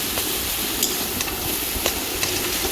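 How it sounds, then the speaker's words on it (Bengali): Taro paste seasoned with turmeric and salt is stirred continuously as it fries in a pan: a steady sizzle with a spatula scraping and tapping at intervals, close and alone. "যতক্ষণ জল শুকিয়ে না যায় ততক্ষণ অনবরত নাড়াচাড়া করে এটাকে ভাজা করে নিতে হবে"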